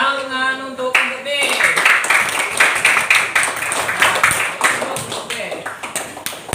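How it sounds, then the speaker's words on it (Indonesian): Elementary school fifth-grade classroom clapping for a student group, a dense burst of many small hands clapping in a lively, uneven rhythm, close and loud, following a brief tone at the start. "Tepuk tangan untuk B."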